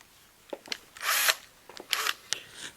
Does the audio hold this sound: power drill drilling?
yes